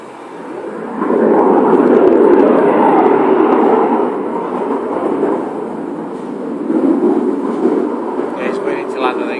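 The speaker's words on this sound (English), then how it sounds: "He's slowing down now, yeah, he's waiting to land, look. The Typoon." A Eurofighter Typhoon jet at the 2014 Farnborough airshow roars steadily overhead, a loud broad rumble that swells, eases and lingers throughout, with people talking nearby.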